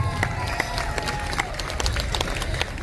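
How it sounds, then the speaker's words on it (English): At the Prairie Island Tinta Wita Wacipi 2024 powwow, the crowd gives a round of clapping for fancy dancers: brisk, scattered claps over a low outdoor murmur. "how about another round of applause?"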